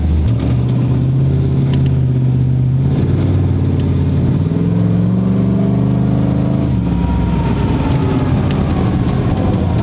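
Comancheep Jeep engine rising and falling through several close revs on a test drive, with a droning, shifting pitch under wind and road rumble.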